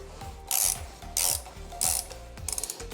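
A ratchet wrench loosens a bolt on the exhaust of an Aprilia Tuono fitted with an HP Corse exhaust, making close, loud bursts of rapid clicking in three or four strokes with short pauses between.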